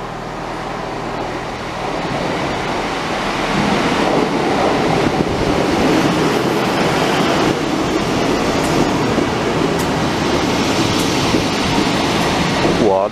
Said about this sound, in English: we now have a Great Western Railway service from somewhere to Weymouth